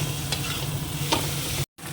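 Mutton being stir-fried with spice paste in a kadai, a constant sizzle broken by two clear scraping stir strokes, then a brief dropout.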